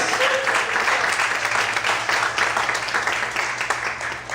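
Church congregation clapping at a Sunday morning service led by Pastor Luciano Escala, a steady wash of applause throughout, fairly loud, with faint voices mixed in underneath.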